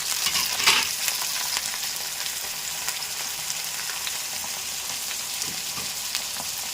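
Bitter gourd pieces frying in hot oil in a pan, a steady dense sizzle that holds evenly throughout with a brief louder crackle near the start, close and with no talking.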